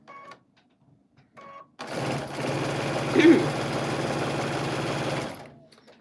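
A sewing machine stitches quilt fabric in one steady, rapid mechanical run of several seconds, preceded by a few short whirring bursts and fading out at the end, with no talk over it.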